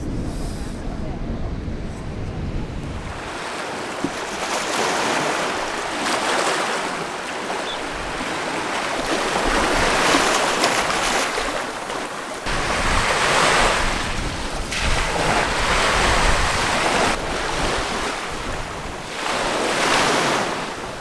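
Surf rolling onto the beach at Setúbal, Portugal, in repeated broad washes every few seconds, mixed with gusty wind buffeting the microphone.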